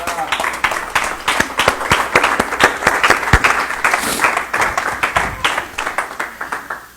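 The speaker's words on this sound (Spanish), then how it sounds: "Alguien puede darle un aplauso al Señor" A church congregation claps in a steady burst of applause that keeps going for several seconds, then thins out toward the end, with voices faintly audible beneath it.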